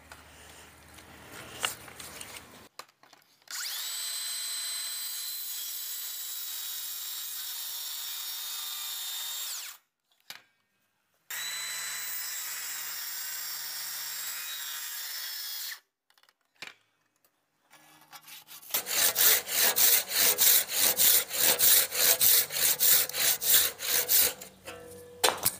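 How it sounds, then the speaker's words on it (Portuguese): A saw cutting wood for a half-lap joint in carpentry: long sustained rasping cuts broken by pauses, ending in a fast rhythmic series of strokes, close and moderately loud. "Vou cortar aqui, pessoal, com a serra 90 graus, como se fosse fazer uma meia madeira normal."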